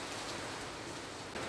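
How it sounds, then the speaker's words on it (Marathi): Heavy rain falls across Navi Mumbai as a dense, even hiss of steady downpour with no voices over it. "नवी मुंबईचा सगळाच परिसर, सगळ्याच पट्ट्यामध्ये जोरदार पाऊस पडतोय"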